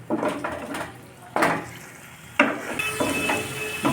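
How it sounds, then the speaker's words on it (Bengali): Doi katla fish curry being stirred in a cooking pan, a metal utensil scraping and clanking against the pan in a few sharp, close strokes over a low simmering hiss, with no voices. "ভালোভাবে মিশিয়ে মিনিট খানিক রান্না করে নিতে হবে।"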